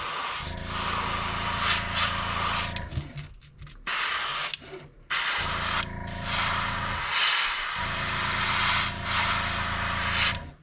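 An airbrush hisses steadily as it sprays white paint over a stencil on a fishing bait, in long continuous bursts with a few brief pauses and dropouts, close and fairly loud with no voices.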